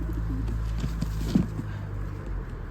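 Pigeons cooing softly in a bird market stall, a few low throaty coos rising out of a steady background hum, with faint scattered rustles and no talk.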